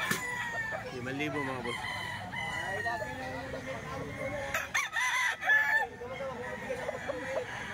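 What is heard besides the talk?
rooster crowing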